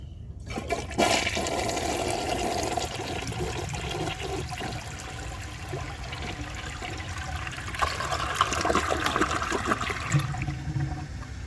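A 1982 Crane Dalton toilet flushes a washcloth, with a close, steady rush of swirling water lasting about ten seconds, then easing into trickling refill.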